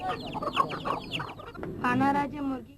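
Several free-range Vanaraja and Gramapriya chickens cluck close by in quick broken bursts, with a louder drawn-out squawk toward the end.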